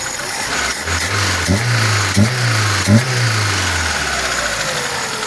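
A VAZ 2109 with a 1.3 engine runs after adjustment of its Chinese LSA Solex carburetor, holding a steady, close idle with three small rev blips before it settles and fades slightly.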